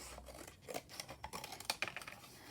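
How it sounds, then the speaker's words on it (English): Scissors trimming masterboard paper tags for junk journals, a few quiet crisp snips spaced unevenly over a low room background. "So now I'm just going to trim all of these up"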